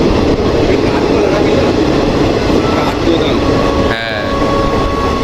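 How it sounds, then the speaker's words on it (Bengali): A train pulls into a station with a steady, heavy rumble of wheels and carriages, a short high squeal or whistle rising briefly near the end, and a single voice speaking once. "ফাইনালি একটা ট্রেন আসছে আমাদের।"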